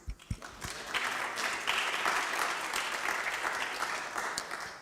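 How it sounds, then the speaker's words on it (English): A conference audience applauds with steady, dense clapping from a crowd, moderately loud and sustained throughout, with a few sharper claps at the start. "So I would like another applause for her,"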